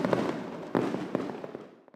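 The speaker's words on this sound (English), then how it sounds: "Fireworks are like kryptonite for them. They're bright, loud, unpredictable, and absolutely everywhere." Fireworks go off in a dense rumble of bursts and crackles, with sharper reports at intervals. The barrage rolls on for a moment before dying away into scattered pops.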